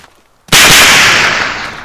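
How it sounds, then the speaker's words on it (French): A single sharp gunshot in the military shooter ArmA II cracks out loud and close after a quiet start, its blast tail fading slowly over the next second. "J'entends bien encore des coups de feu"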